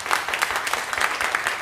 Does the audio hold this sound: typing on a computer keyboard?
no